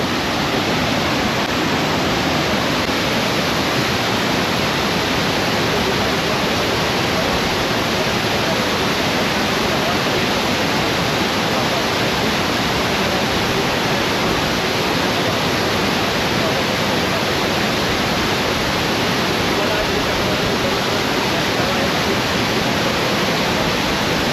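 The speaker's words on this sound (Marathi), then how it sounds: "एक नंबर धबधबा आहे" Savdav waterfall near Kankavali in Sindhudurg roars loud and close, a dense, unbroken wash of rushing, crashing water that fills the whole stretch with no break.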